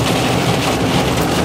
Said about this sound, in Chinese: 沙漠下大雨了